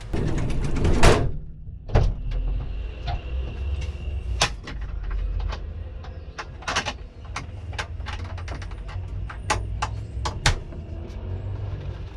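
A door being shut and locked during a tense stop with corrupt police in Mexico: a sharp clunk near the start, then scattered clicks and knocks over steady low vehicle or engine rumble, fairly close and loud.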